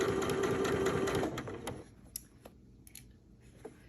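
A sewing machine stitches a quilt seam, a fast, steady mechanical whir and tapping that runs loudly for over a second, then stops, leaving scattered clicks and small handling sounds.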